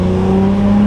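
A BMW G8x M3/M4 with a Valvetronic Designs exhaust, valves open, drones loudly and steadily up close, a strong low hum with no pops or burbles over a short stretch.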